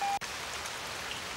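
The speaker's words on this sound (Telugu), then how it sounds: "వర్షం బాగా పడుతున్నట్టుంది." Heavy rain pours down in a steady, dense hiss with no voices, broken only by a brief dip right at the start.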